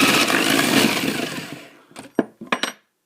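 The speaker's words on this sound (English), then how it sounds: "we're just going to drill this out" An old electric drill with a spade bit bores into wood, a rough, loud grinding whir that fades out, followed by a few short knocks and rattles.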